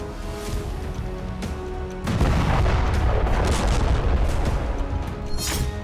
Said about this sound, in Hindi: इसी दौरान इजरायली विमानों से टारगेट कर लेता है, जिसके बाद एक विस्फोट होता है जिसमें कार तबाह हो जाती है।